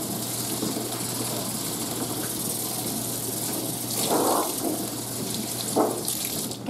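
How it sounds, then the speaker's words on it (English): Steady running tap water splashing over a cutting mat in a sink during a final rinse, close and continuous, with brief louder gushes as the flow shifts. "Final rinse."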